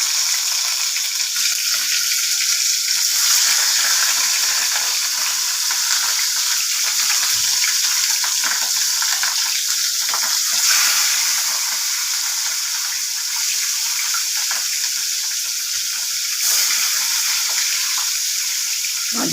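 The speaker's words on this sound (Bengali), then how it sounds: "এবার ভাজা হোক মাছগুলো" Fish frying in hot oil on a lowered flame, a steady bright hiss of sizzling that carries on without a break, close and fairly loud, with a few faint clinks of a utensil here and there.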